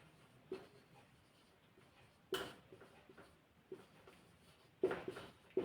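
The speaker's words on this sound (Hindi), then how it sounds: "सवाल ये है कि ये जो है मैं लिख देता हूँ थोड़ा सा।" A marker writing on a board during a JEE Advanced physics problem lesson, soft scratchy strokes in short bursts separated by pauses, faint and close, with no talking.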